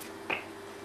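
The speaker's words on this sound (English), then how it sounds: "as soon as I snap my fingers again" A single sharp finger snap, close and crisp, standing alone against a quiet room hiss during a card magic routine.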